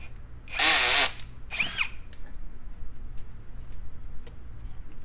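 A power drill bores holes into the tailgate of a 2020 Jeep Wrangler JL Unlimited, giving two short, loud whirring bursts up close, then quiet with faint clicks.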